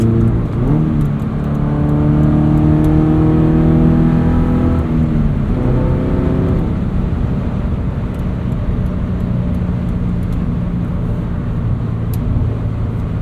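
A Subaru BRZ engine revs up through rising tones, then settles into a steady drone with road noise as the car cruises.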